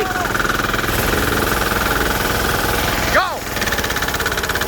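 A diesel Sears Bolens garden tractor engine runs below full throttle outdoors in snow, with a loud, steady, rapid chugging and knocking drone throughout. A short shout cuts in partway.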